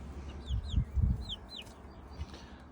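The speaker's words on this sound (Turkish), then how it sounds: "Anne cüce ispenç, yavrular diğer tavukların yumurtasından." Soft, high chirps from small chicks repeat over low clucking from a bantam hen, with a steady outdoor background hum.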